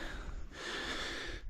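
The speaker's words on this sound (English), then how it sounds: "So heavy breathing, warts and all," Heavy breathing from a walker climbing uphill on the Rosedale Railway walk to Blakey Ridge, one short close snorting breath, loud and alone.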